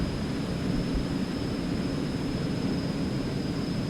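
Eclipse 550 jet engines in X-Plane 11 climb out after takeoff with a steady, even roar and a thin high whine running underneath, holding constant with no voices.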